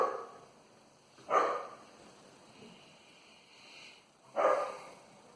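Two barks from a dog ring out a few seconds apart, moderately distant and fairly soft against a faint, steady background hiss.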